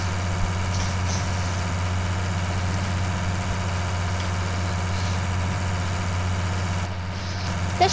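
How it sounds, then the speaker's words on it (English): A 3090 tractor engine in Farming Simulator 19 drones steadily with a deep low hum and constant vibration as it climbs slowly uphill, loud and continuous with no talking. "This tractor goes, the 3090 goes surprisingly slow uphill."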